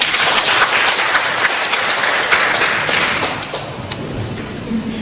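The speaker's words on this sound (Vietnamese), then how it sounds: "Hãy vỗ tay cảm tạ." A church congregation applauds together, a dense, steady wash of clapping that holds loud and even before easing slightly toward the end.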